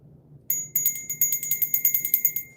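A small hand bell rung rapidly in a steady jingling burst, bright and close, with no talk over it.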